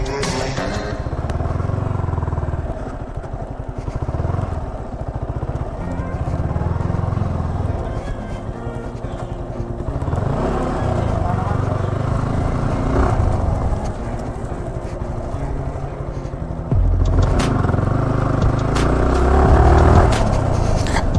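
A Yamaha R15M motorcycle rides off-road on a rough track, its engine a loud, close, continuous drone that swells slightly toward the end.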